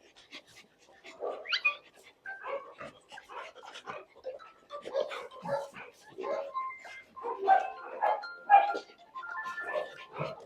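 Golden retrievers and Labradors bark and yip in a busy Hyderabad kennel, with sharp, irregular barks from several dogs at varying distances and occasional whimpers. A person talks in between.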